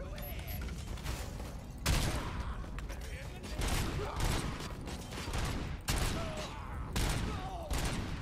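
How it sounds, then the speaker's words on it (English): Gunfire in the shooter Robocop: Rogue City, repeated heavy blasts and a sustained rumbling barrage with mechanical clanks, fairly loud and continuous, with a voice briefly audible under it. "people are gonna start shooting and my ears are just gonna be on fire with gunshots"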